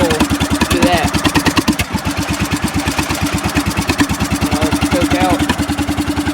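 A lawn mower engine runs on choke with its muffler removed, a loud close rapid chugging pulse that stays steady with slight surges. Speech-like sounds register faintly, though no words come through.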